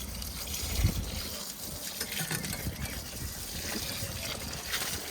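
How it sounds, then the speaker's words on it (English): Water is splashed over garden beds during a yard tidy-up, a faint outdoor trickling and gushing that runs through the whole stretch, with a low knock early on. "Give that a drop or splash of water, Gaz."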